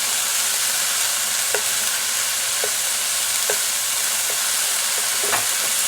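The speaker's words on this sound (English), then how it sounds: "I've stirred the onions a couple of times" Onions frying in a pan alongside browning leftover pork roast, a dense steady sizzle up close with a few light scraping clicks from stirring spread through it.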